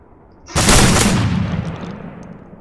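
Loud gunfire in the video game Call of Duty on the Hardhat map, one sharp close blast that rings out and decays slowly over about two seconds, with no talk.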